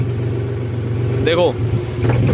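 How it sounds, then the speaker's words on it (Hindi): John Deere tractor diesel engine running steadily close by, its tone sagging and labouring as the dry-type air filter intake is blocked, with a brief whine rising over the steady engine drone. "तो जब वो हवा को बंद कर रहे हैं तो देखो हवा बंद हो रही है, तो ट्रैक्टर के ऊपर भी प्रभाव पड़ रहा है, ट्रैक्टर भी लोड ले रहा है।"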